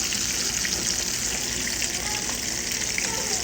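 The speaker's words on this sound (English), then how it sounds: "Now with the spinach, I stir it a little bit." Spinach sizzles in a frying pan while being stirred, making a steady close hiss with faint crackles and no distinct impacts.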